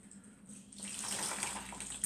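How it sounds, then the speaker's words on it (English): A magic sponge dipped and squeezed in a bucket of soapy water, faint trickling and splashing that swells after a quiet start and runs on alone for about two seconds. "wet the magic sponge in the soapy water"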